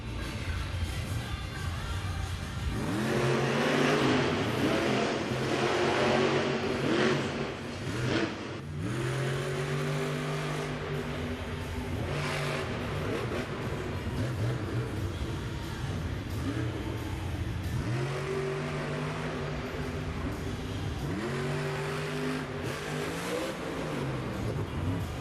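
A monster truck's engine revs hard in repeated rising and falling surges during a freestyle run at a stadium event, loud and close over a constant roaring crowd and arena din, with faint announcer talk in the background.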